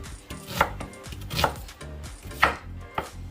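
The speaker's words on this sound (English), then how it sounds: "we're just going to cut up our onion" Knife chopping through an onion on a cutting board: several sharp, uneven chops close up, with soft knocks between them.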